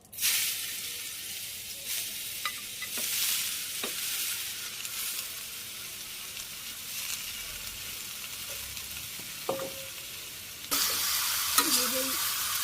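Cumin and bottle gourd fry in hot oil, giving a continuous bright sizzle with scattered stirring scrapes and clinks, close and moderately quiet, louder near the end.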